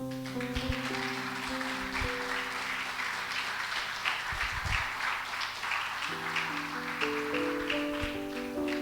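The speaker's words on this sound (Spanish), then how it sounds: "Dale un aplauso al Señor." Church congregation clapping steadily for the Lord during a Spanish-language sermon, sustained applause blended with sustained organ or keyboard chords underneath, no talking.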